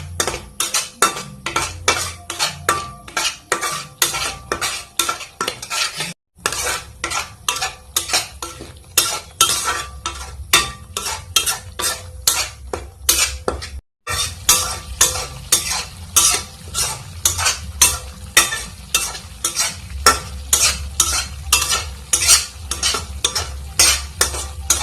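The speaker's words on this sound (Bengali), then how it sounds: "এখন ভালোভাবে এটা নেড়ে ছেড়ে নিয়ে নেব আর জলটা শুকিয়ে নেব" A spoon stirs fish curry masala in a pan while the water cooks off, giving quick rhythmic scraping and clinking strokes over a steady sizzle, close and continuous with two brief pauses.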